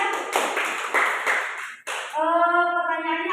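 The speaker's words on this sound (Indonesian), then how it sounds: "Tepuk tangan untuk Kak Fauzia" Classroom applause during a teaching practice lesson, a dense burst of clapping from a group of students lasting over a second, then fading into a steady tonal sound.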